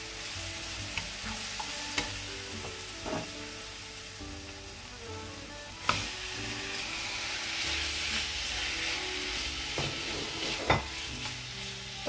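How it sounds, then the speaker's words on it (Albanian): Chicken meat fries with onion in a pan, a steady close sizzle and crackle with occasional scrapes and knocks of stirring throughout, no voices. "Vazhdojmë tani i fërgojmë edhe këta bashkë me qepën."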